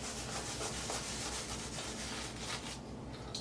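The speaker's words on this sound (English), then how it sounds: "It's loading the brush up, you know, nicely, just for lathering straight on my head." A shaving brush works soap into lather directly on a bald head, a steady close wet rubbing and brushing texture that runs continuously without pause.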